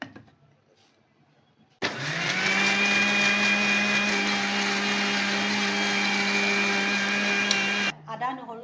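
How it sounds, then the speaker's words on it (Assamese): A kitchen mixer grinder whirs loudly and steadily for about six seconds while pasting ginger, garlic, onion and green chili, starting abruptly after a quiet moment and cutting off near the end. "এইখিনি মই এতিয়া মিক্সিত ভালকৈ পেষ্ট কৰি ল'ম।"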